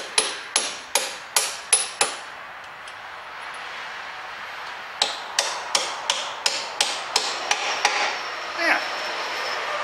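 A hammer strikes a Renault Master front tie rod in a garage, with six sharp evenly spaced metallic blows, a short pause, then a quicker run of about ten lighter close taps.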